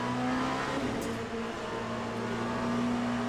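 Race cars in Le Mans Ultimate on track near a Porsche, with a steady loud engine drone and a sustained tonal whine, holding level throughout with no voices.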